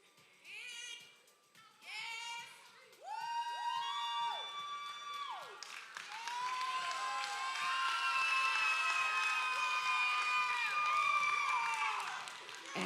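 An audience at a bodybuilding contest cheers, whoops and claps in rising waves, shrill shouts and whistles building into sustained crowd noise, fairly distant and moderately loud.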